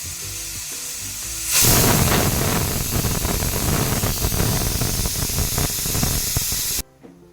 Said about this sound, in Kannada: ಸ್ವಲ್ಪ ಸ್ಟೀಮ್ ಬರಲಿ, 1 ವಿಜಿಲ್ ಆದರೆ ಸಾಕು.